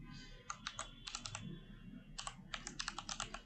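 Quiet typing on a computer keyboard while writing web page code: short bursts of rapid key clicks separated by pauses, close but faint over a low room hum, with no talking.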